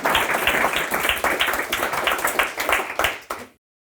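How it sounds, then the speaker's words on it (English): An audience at a live podcast recording claps to welcome a guest, a brisk burst of hand claps that ends abruptly after a few seconds. "And yes, you can clap."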